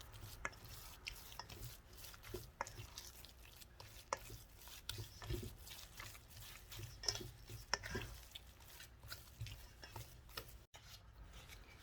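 Egg is worked into churro dough in a bowl, giving a fast, continuous run of quiet, close tapping and scraping stirring strokes with no talking.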